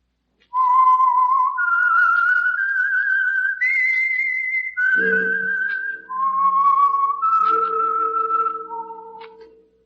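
A melodic tune whistled loud and clear, one sustained note after another, stepping up and down, with a low accompanying tone joining midway; the theme of the radio program The Whistler.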